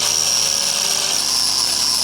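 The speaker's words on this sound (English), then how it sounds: "I think I might just shave that down with the grinder" An angle grinder shaves down part of an engine block during a VK56 engine swap into a G35 coupe, giving a continuous high-pitched whine with harsh grinding hiss, close and loud, alone without talk.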